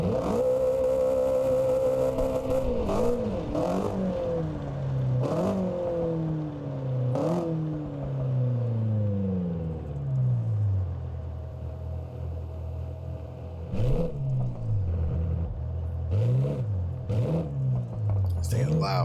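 A BMW M5 engine roars loudly up and down through its rev range in repeated rising and falling sweeps with gear changes, close and continuous, with a few sharp bursts later on.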